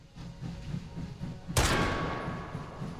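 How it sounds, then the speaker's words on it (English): A single sharp gunshot rings out in a VR shooting game as a bell is hit, with a bright ringing tail that fades over the following second; quiet thumping sounds come before it. "Always love shooting the bell."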